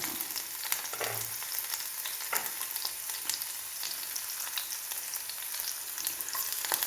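Onions are added to hot oil with popped mustard seeds in a cheenachatti and fry with a steady, close, even sizzle, dotted with small crackles and occasional stirring scrapes, with no voices.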